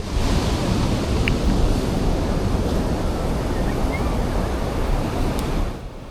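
Sea waves wash over a sandy beach with a continuous, loud, broadband roar of surf that stays dense and even throughout, easing slightly at the very end.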